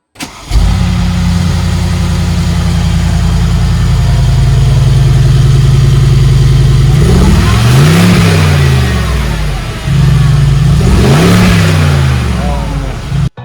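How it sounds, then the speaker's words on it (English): A Mercedes G-Wagon idles with a deep, steady rumble, then is revved twice, each blip sweeping up sharply and falling back to idle; loud and close-miked. "Here's some engine revs for you guys."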